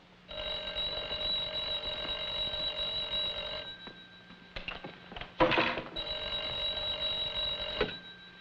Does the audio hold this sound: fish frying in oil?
no